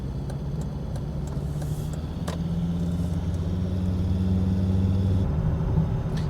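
Volvo XC90 driving on the road, its steady low engine and road rumble continuous and close throughout, with a slight rise in drone midway and no talk.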